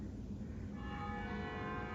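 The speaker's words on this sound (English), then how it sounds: "Oh, and there's the church bell." A church bell tolls faintly in the distance over a quiet outdoor backdrop in a small urban garden, its steady tone sustained through the moment.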